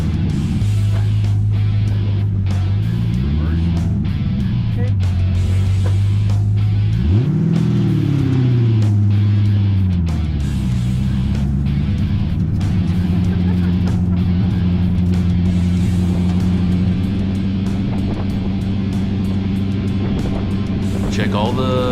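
A custom 1963 C2 split-window car on an all-tube chassis rumbles on its first test drive, its engine droning low and steady with a few rising revs and dips, loud and close throughout, with voices talking over it.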